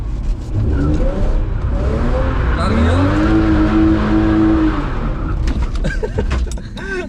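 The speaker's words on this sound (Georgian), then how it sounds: "რაც უფრო მეტ გას მიცემ, მით უფრო ჩქარა წავა ავტომობილი და თუ ძალიან მიცემ გას, ეგრევე სრიალს დაიწყებს" A drifting car's engine revs and climbs in pitch while the tires slide, a loud, continuous whine close by, with a voice speaking briefly over it.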